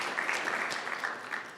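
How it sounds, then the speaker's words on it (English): Brief clapping from the room at a pre-event press conference for a South African fighting championship, a short, fairly even patter of hands. "I think everyone should have a round of applause"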